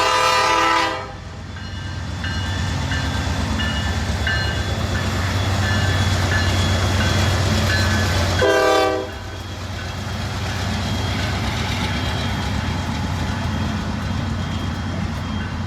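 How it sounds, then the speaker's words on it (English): Burning train sounding its horn, two loud sustained blasts near the start and again past the middle, over a continuous heavy rail rumble. "It's not every day you see a train on fire."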